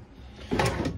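Wooden cabinet doors in a 2024 Adventurer 19RD RV kitchen knock and thump shut, a short close clatter of a couple of quick bumps in a quiet interior.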